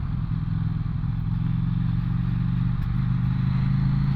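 A KTM 790 Duke motorcycle engine drones steadily while riding round in circles in the wind, a constant close mid-range rumble with wind buffeting and no talk.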